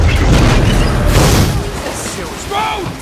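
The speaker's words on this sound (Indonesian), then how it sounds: "Strut berusaha meraih peralatan selamnya, namun alat itu malah terlepas bergerak ke arah dinding kemudian meledak." In a film scene, diving equipment explodes against an underwater cave wall with a heavy, rumbling boom that stays dense and roaring for the full three seconds before easing slightly.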